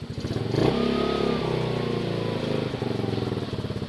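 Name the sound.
150cc scooter engine running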